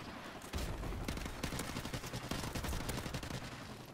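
Call of Duty Remastered firefight with dense, rapid gunfire and explosive rocket blasts, a continuous burst of overlapping shots that stays loud from start to finish.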